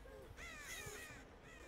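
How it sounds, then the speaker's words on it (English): Crows cawing in the game Dead by Daylight, a few harsh overlapping caws close by in a short burst. "There are all these crows"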